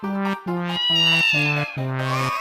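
Human voices imitate a cat's meow, giving about five drawn-out, evenly spaced meows in quick succession, close and loud with no other talk.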